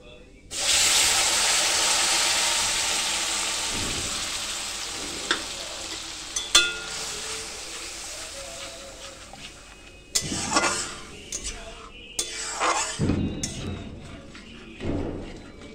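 Ground spinach paste with green chilli hits a hot pan for palak paneer, bursting into a loud, close sizzle that slowly fades while a spoon scrapes and knocks against the pan in irregular strokes.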